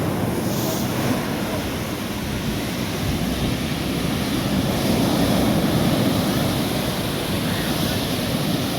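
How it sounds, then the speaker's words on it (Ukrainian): Steady, heavy roar of large sea waves washing onto a shore in Odesa, Ukraine, continuous and loud, with wind buffeting the microphone throughout. "хвилі дуже великі"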